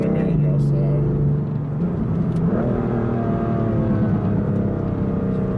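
A 2018 BMW M3 engine revs in manual mode with a custom exhaust setup, a loud steady cabin drone dipping and rising through gear changes, with faint crackles and talk over it.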